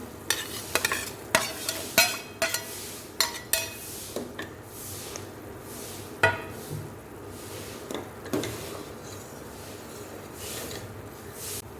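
Roasted cashews and raisins are stirred into a pan of boondi ladoo sugar syrup, with a spoon scraping and clinking against the pan in irregular strokes over a soft sizzle.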